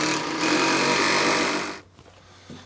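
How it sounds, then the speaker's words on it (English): A power drill drives screws into the cross pieces of a DIY outfeed workbench for a SawStop Jobsite Pro saw, whirring loudly and close for nearly two seconds before stopping, followed by faint handling clatter. "Similar to the bottom, I screwed these to the uprights here."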